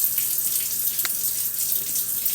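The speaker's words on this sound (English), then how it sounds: "I add some water. Basically, I'm deglazing it with water to kind of get up any of those stuck-on bits in there." Water poured into a hot skillet to deglaze stuck-on bits of meat: a loud, continuous rushing hiss and sizzle that holds steady throughout, with no talking.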